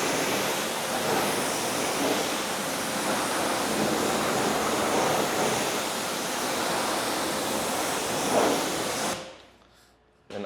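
Hose water spraying steadily over a car wheel as a pre-rinse before a wheel cleaner goes on, a loud continuous hiss that runs unbroken and then cuts off abruptly near the end.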